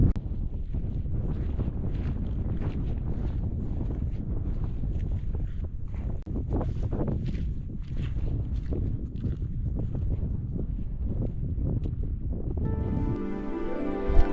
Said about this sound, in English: It was quite windy.